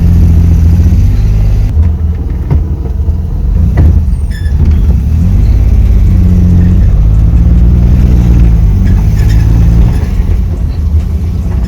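Maruti 800 with a carburetor engine driving steadily, a continuous low rumble with gear and speed shifts throughout, close and loud, no talking.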